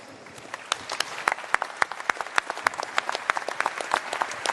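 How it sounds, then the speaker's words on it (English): An audience claps for a panel of speakers at a Bitcoin conference, a steady burst of many hands with sharp individual claps standing out, filling the room close and lively. "can everyone please give our panelists a round of applause"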